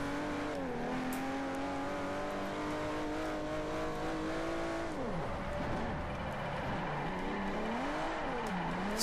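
A drifting car's engine revs in Forza 4, holding a loud sustained tone that swells and dips as the throttle shifts, with a smooth steady drone and no talk over it.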